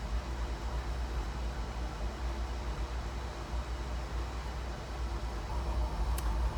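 An oil burner heater hums steadily in the background of a quiet room in cold weather, a low, even broadband roar with no talking over it.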